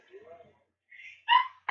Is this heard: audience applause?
no